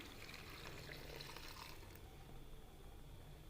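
Half a jug of water pours into a pan of cooking fenugreek and potato, a soft splashing stream for about two seconds that then fades into a quiet trickle.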